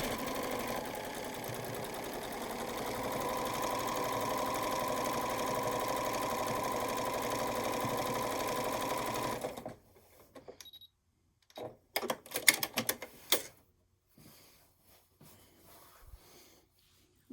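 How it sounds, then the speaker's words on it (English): A sewing machine runs steadily for about ten seconds, stitching quilt fabric pieces together for a small house block, then stops, leaving only scattered handling clicks and rustles. "Sew them together."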